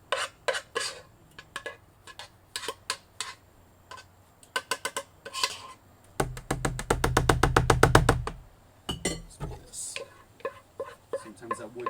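Thick pimento cheese mac and cheese with roux, stirred by hand with a wooden spoon: close, irregular knocks and scrapes against the pot, with one quick run of rapid ticking taps and a low rumble beneath.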